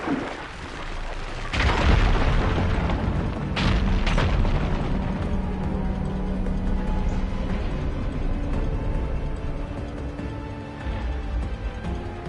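In Horizon Forbidden West, a firegleam deposit ignites and blows apart rubble, producing a deep loud boom that rolls into a long rumbling crumble of debris and sustained low roar.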